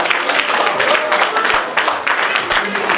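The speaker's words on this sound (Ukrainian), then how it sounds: "Ще раз давайте підтримаємо оплесками наших наречених" Wedding guests applaud the newlyweds, a dense continuous wash of many hands clapping close by, steady for the whole stretch with no pauses.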